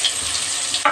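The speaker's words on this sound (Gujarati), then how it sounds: "હિંગ નાખવાની થોડી હળદર નાખી દેવાની આપણે બધો ભીંડો અંદર નાખી દેવાનો" Okra tipped into hot oil with asafoetida and turmeric, a loud close sizzle and crackle of frying that spits steadily, with a sharper burst of stirring or movement near the end.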